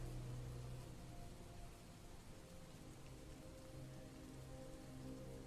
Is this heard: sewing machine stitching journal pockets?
no